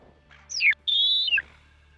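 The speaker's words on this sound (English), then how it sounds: "That's another goose." A waterfowl hunter's goose call blows two honks, each sliding downward in pitch, one short and one longer after a brief gap, close and clear with nothing else heard.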